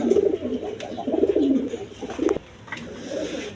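A pair of pigeons for sale coo nearby, deep rolling murmurs repeating in bursts before fading to quieter background sound.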